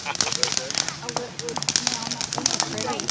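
Fireworks go off in a rapid series of sharp pops and crackles, a dense run of close bursts with people talking over them.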